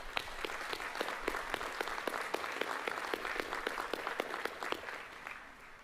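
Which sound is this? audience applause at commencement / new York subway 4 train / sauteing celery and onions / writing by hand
audience applause at commencement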